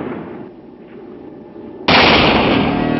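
Gunfire in the 1968 film If..., a sudden loud blast that cuts in over quieter film sound and stays dense and sustained to the end.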